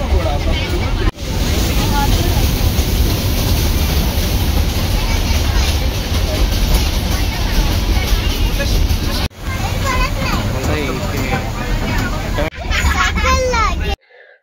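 A passenger train ride to Matheran hill station: a continuous loud rumble of the moving carriage mixed with crowded chatter, briefly cut by a few short breaks.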